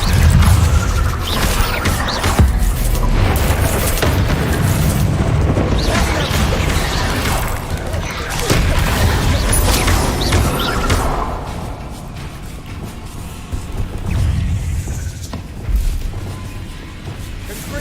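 Bombarda explosion spell cast in the video game Hogwarts Legacy, with loud booming blasts, crashes and rumbling impacts following one another over a busy battle soundscape.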